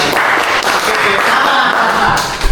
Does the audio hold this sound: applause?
yes